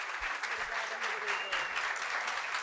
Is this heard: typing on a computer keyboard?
no